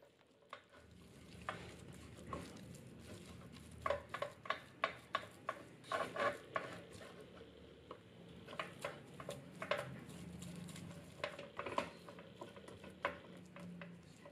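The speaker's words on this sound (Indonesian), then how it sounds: "Aduk cepat dan pastikan seluruh tepung terigunya merata dan menyerap cairan" Choux pastry dough being stirred briskly in a pot after flour is added, with repeated scraping and knocking of the spoon against the pot in an uneven rhythm, close and moderately loud, no talking.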